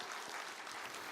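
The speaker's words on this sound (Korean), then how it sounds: "박수 한번 드릴까요?" Church congregation applauding during a Sunday worship service, a dense, steady clatter of many hands filling the short moment on its own.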